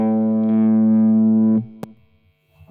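One sustained note on a 2014 Epiphone Les Paul Custom Pro electric guitar with the bridge pickup volume rolled back a notch, ringing loud and steady for about a second and a half before cutting off, then a sharp click and faint noise.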